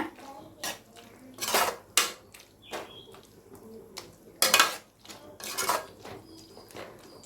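A spoon clanks and scrapes against a pan while citron pachadi with asafoetida is stirred, several sharp metallic knocks in an irregular rhythm, fairly quiet, with faint bird calls in the background.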